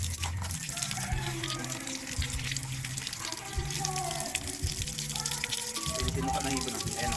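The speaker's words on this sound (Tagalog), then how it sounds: "Dito tayo sa gripo. Bukasan natin." Water gushing steadily from an opened outdoor tap, a continuous splashing rush close by, with people talking over it throughout.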